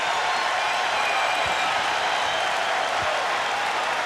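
A large basketball arena crowd at a 1997 NCAA men's tournament game roars in a dense, steady wash of cheering and applause, loud and unbroken for the whole stretch.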